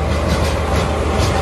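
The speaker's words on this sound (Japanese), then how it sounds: "4番線に列車が到着いたします。" A loud, close train arrives at a Sapporo station platform, rumbling with a heavy low drone and steady rattling, a continuous mechanical roar with no voices.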